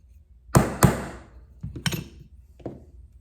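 Small pin being driven into a Canik TP9SFx pistol during a build: two sharp taps close together, then a few softer, spaced knocks, close and alone with no talk.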